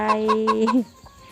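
A chicken gives four quick, evenly spaced clucks ending in a drawn-out squawk, close by, followed by faint background noise.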